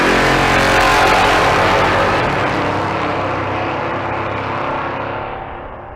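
A Torino and a Corvette convertible launch side by side at a drag strip at Bandimere during race week, a loud roaring engine burst that swells early and then fades steadily as the cars pull away.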